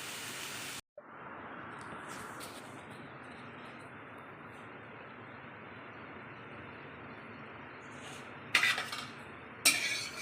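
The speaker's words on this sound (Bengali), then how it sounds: "আদা, রসুন, কাঁচা লঙ্কা, ধনে পাতা আর টমেটো এ কটাও ভেজে নেব।" Ginger, garlic, green chili, coriander leaves and tomato fry in white cooking oil with a steady, dense sizzle that runs throughout, broken by a brief cut near the start and a couple of clanks near the end.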